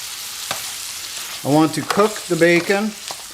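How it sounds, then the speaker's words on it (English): Steady sizzling and crackling of bacon frying in a pan runs throughout, with a person speaking briefly over it. "with the stuff I'm frying here, I want to cook the bacon"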